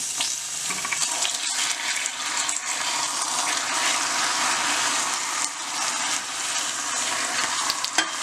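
A loud, continuous sizzling hiss and bubbling as 3-4 tablespoons of water hit hot caramel in a pan, steady throughout with brief stirring clatters.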